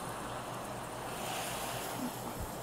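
Butter and heavy cream bubble steadily in a pan, a dense, continuous hiss-like sizzle held close and fairly loud, with no voices over it.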